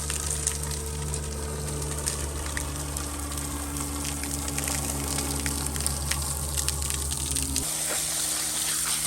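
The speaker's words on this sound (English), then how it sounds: "Now, today, what I do, I wash with a hose." Water sprays steadily from a garden hose onto a driveway, a continuous broad hiss and splatter lasting the whole stretch, close and even, with a low hum that drops out near the end.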